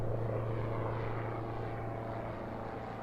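A ski-equipped snow plane engine drones faintly and steadily at Denali base camp at around 7,000 feet, a low continuous hum that stays distant and quiet, with no talk.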